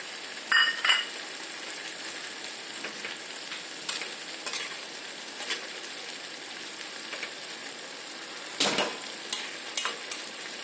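Red amaranth greens with whole green chillies simmer and bubble steadily in a pan, a soft continuous sizzle with a few faint clinks of a spoon or lid, no voices.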